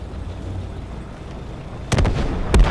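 A grenade launcher firing in Call of Duty WWII: two sharp, loud launch bursts about half a second apart stand out over a steady low battlefield rumble.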